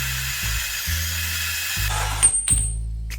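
A Milwaukee M12 FUEL compact band saw runs with a steady low motor drone, its note shifting as the blade bites through metal stock, with a few sharp high squeals near the end of the cut.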